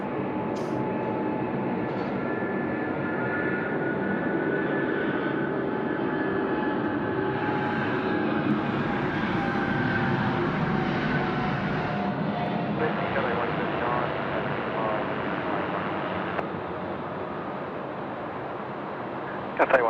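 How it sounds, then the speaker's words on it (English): A FedEx jet rolls down runway 16 right at Sydney Airport at night for takeoff, its engines producing a steady, loud, sustained roar that holds for the whole stretch. "here we go, FedEx rolling now"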